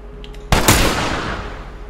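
A gun fires in The Last of Us Remastered: two loud, close shots in quick succession, each followed by a long, ringing decay that dies away slowly.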